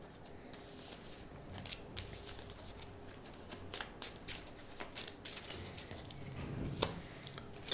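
Clank! game cards shuffled by hand over and under, one card to the top and one to the bottom: a run of soft, quick papery flicks and slaps, fairly faint and close, with no voices.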